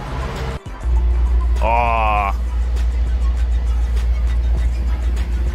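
A Mercedes-Benz car drives with a steady, loud low engine rumble that runs almost the whole time, a brief rising tonal whine near the start, and a man's short exclamation over it.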